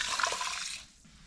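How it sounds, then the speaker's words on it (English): Water just boiled in a kettle pours in a steady, soft splashing stream into a large pan of rice, then thins out and stops. "I've boiled the kettle and I'm just going to add water"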